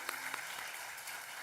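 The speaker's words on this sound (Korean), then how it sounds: "우리의 기도에 응답하신 하나님께 우리 영광의 박수 올려드리겠습니다." A church congregation at a Friday night worship service claps together, a brief soft patter of applause heard from a distance in a large room.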